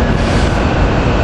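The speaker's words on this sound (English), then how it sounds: "Coming in, we got the Warminster train" Warminster commuter train rolling into 30th Street station, a steady dense rumble of rail cars passing close by with continuous wheel noise and no voices.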